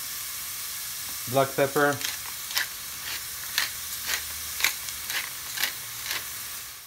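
Onions sizzle steadily in a pan as they turn golden brown, with sharp crackles and spits popping through the constant hiss. A voice speaks briefly at the start, and the frying continues on its own after that.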